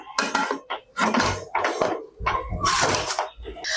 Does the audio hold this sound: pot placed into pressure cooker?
yes